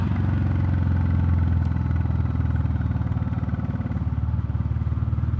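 A Royal Enfield Classic 350 single-cylinder motorcycle fitted with a DNA air filter idles with a steady, close thumping beat and a slight rise in revs, loud and alone with no voices.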